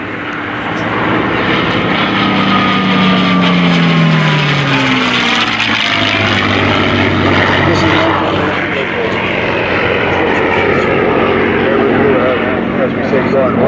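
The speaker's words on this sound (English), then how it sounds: "the aircraft are going to join up into what you may have seen here at Reading in times past, the missing man formation." World War II fighter planes flying overhead in a missing man formation at an airshow in Reading, a loud sustained propeller engine drone that shifts in pitch as the aircraft pass, with an announcer speaking over it.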